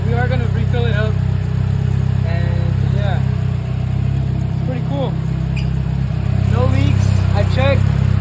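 A 6-bolt Mitsubishi Eclipse GSX engine idles after a thermostat replacement, giving a steady low hum close by while someone talks over it.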